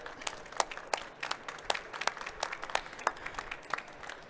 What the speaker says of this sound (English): I think we can give a big round of applause to our